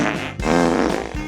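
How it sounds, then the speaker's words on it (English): A programmable remote-control toy robot puppy plays a fart sound, a brief, loud, buzzy blurt lasting about a second, with no talk. "I just farted"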